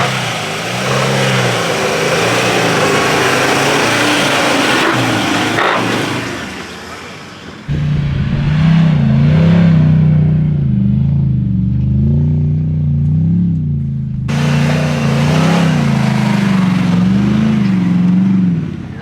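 A four-wheel-drive car cruising along a firm South Australian beach near Robe in high range, a loud, steady engine drone with shifting pitch, dipping briefly before a cut and continuing, with wind noise and voices intermittently over it.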